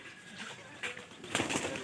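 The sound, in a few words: pigeon cooing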